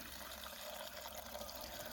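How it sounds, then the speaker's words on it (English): Water is poured steadily over fresh leaves bearing galls to soak them, giving a continuous, even splashing trickle that is fairly faint and close. "So I poured this water on"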